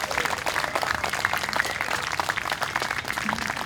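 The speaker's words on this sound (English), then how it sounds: "Give them a round of applause." Crowd applause for a band at an outdoor summer park concert: a sustained wash of many hands clapping at a moderate distance, steady and fairly quiet for the whole stretch.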